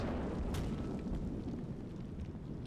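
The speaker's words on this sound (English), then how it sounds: "look at all those little explosions popping up in the ridge there" Light mortar rounds exploding along a ridge in a war video game, a dense rumble of distant booms with one sharper crack near the start, continuous and without talk.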